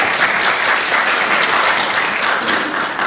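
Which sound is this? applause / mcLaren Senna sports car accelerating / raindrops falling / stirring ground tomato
applause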